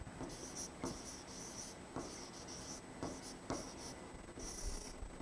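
Pen or chalk writing out a single word during a biology lesson, a series of short, close scratchy strokes with brief pauses between them, heard alone without talk.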